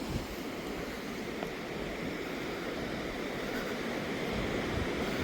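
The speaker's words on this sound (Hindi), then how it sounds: "और यहाँ पे हो जाता है संगम दोनों नदियों का" Steady rushing water at the confluence of the Alaknanda and another river near Badrinath in the Himalayas, a broad continuous roar with wind noise on the microphone and no voices.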